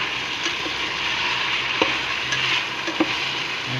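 Chicken pochero pieces sizzle steadily in a hot frying pan as they are stirred, with a continuous loud fry broken by a few scraping utensil knocks.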